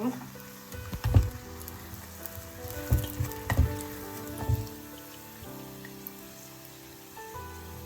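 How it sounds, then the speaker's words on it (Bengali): Chicken and egg chops shallow-fry in a pan, giving a soft, steady sizzle with a few sharper crackles and pops as they are turned, fairly quiet overall. "এটার এই পাশ ওই পাশ এভাবে একটু ঘুরিয়ে উল্টিয়ে দিতে হবে যখন মানে দুটো পিঠ ভাজা হবে"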